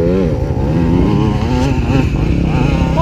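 Off-road motorcycle engine labouring up a steep hill trail, a loud continuous close drone with wavering revs that rise and fall throughout.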